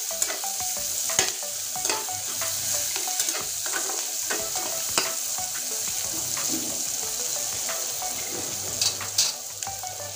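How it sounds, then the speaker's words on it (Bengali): Chopped onions fry in oil for a Bengali fish curry, a bright steady sizzle with repeated scrapes and clicks of stirring scattered throughout, close and continuous, with no one talking. "এবার এই তেলের ভিতরে দিয়ে দেব পেঁয়াজ কুচি। পেঁয়াজটা লাল করে ভেজে দেব।"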